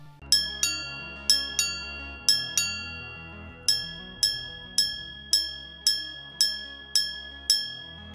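Luxury minute repeater watch chiming: bright, bell-like metallic strikes, first low-high pairs and then a run of single tones, each ringing out and fading, clear and close with no voices.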